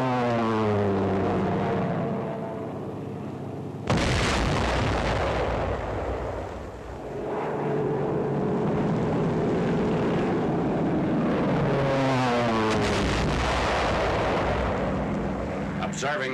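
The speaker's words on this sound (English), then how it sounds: "Dive bombers of the 10th and 14th American Air Forces attack heavily fortified enemy positions." WWII dive bombers attacking heavily fortified positions: a loud aircraft engine roar with a swelling, pitch-shifting dive, a sudden heavy blast mid-way, then rumbling explosions and more engine drone, all dense and continuous.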